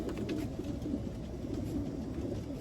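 A white grizzle racing pigeon handled at close range during road training, giving a low, steady cooing and fluttering murmur, faint and continuous, with no talk over it.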